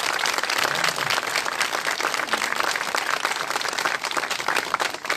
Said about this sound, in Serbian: jedan aplauz ponovo za njih.